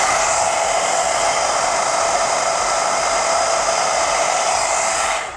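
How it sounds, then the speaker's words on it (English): A hair dryer on its cool setting blows steadily and loudly, a continuous whooshing hum that cuts off at the very end. "I'm gonna take my blow dryer and I'm gonna do it on cool."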